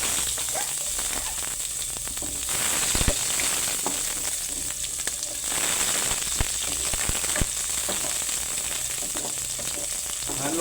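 Chopped onions sizzle steadily in a hot pan while cooking monggo (mung bean stew), with a continuous loud frying hiss and occasional stirring clicks and scrapes, no talking.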